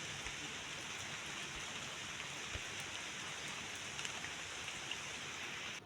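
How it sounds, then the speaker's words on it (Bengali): Light drizzle falls outdoors in a village setting near a pond, a soft, steady hiss of rain with faint scattered drops, even and unbroken throughout, with no voices. "সারাদিন আজকে এরকম ঝিরিঝিরি বৃষ্টি"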